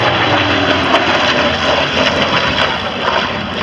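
A propeller aerobatic plane with an engine of nearly 3500 horsepower and a huge propeller roars steadily overhead at a world aerobatics championship air show, loud and continuous with no voices.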